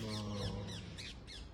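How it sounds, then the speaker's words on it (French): Birds squawk in a small garden near Paris, giving a series of five or so harsh, descending calls at moderate distance over a low steady background hum. "Et là, il y a des oiseaux, un petit jardin."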